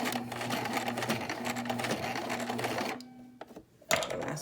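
Sewing machine stitching through heavy duck cloth while making a face mask, a steady rapid needle rhythm running close and loud, then stopping briefly before a short restart.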